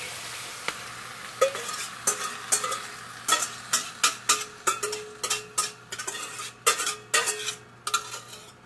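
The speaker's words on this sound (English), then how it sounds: "Now we're going to mix in our egg." Egg being stirred in a pan for a broccoli cheddar frittata, a run of rhythmic utensil scrapes and taps against the pan over a faint sizzle, close and moderately loud, no voices.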